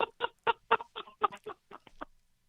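A chicken squawks in a rapid burst of about ten sharp, harsh clucks, loud and close, with no talking and silence after the final call.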